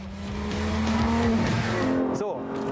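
A Porsche GT3 RS sports car corners at high speed, its engine droning loudly and steadily with a shifting pitch, a brief tire squeal near the end, and a voice talking over it.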